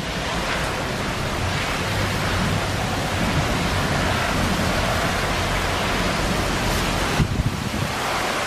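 Heavy monsoon rain from a passing storm pours down in a dense, steady hiss with no breaks, loud and enveloping, with no voices over it.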